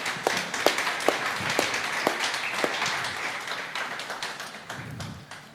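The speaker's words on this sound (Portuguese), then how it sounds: "Podemos aplaudir, acho eu." An audience at a cooks' congress applauds a finished moqueca dish: sharp individual claps stand out at first over a dense bed of clapping that slowly thins out over about five seconds.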